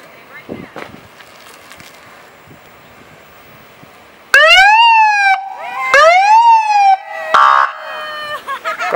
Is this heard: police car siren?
yes